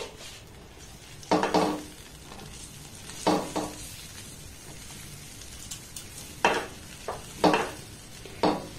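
Sun-dried rice flour is stirred into hot boiled water to make coconut pitha dough. Irregular bursts of scraping and mixing rise now and then over a faint sizzling background, close by, with no voices.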